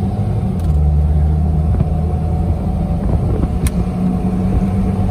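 A 1993 Jeep Wrangler Sahara YJ with the 4.0L engine accelerating on the road under moderate throttle, a steady close engine drone and rumble with rising pitch, no talking.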